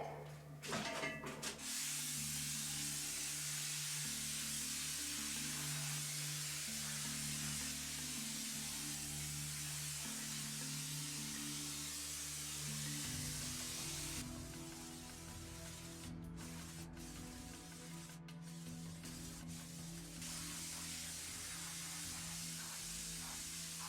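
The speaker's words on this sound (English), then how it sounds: "I switched to the wide fan tip, which worked way better for larger areas" DIY spray foam insulation shoots from a wide fan tip in a steady, prolonged hiss, with a low mechanical drone running underneath and a few brief clicks partway through, close and continuous.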